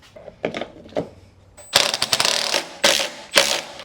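A tool drives screws into a truck bed cover, making close, ratcheting mechanical clicks and whirs in several short bursts, with louder, denser bursts in the second half and no talk.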